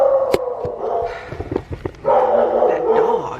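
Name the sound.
dog barking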